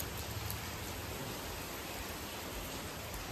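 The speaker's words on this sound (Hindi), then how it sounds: "वो बारिश" Steady, broadband hiss of rain falling continuously at a moderate level, with no voices over it.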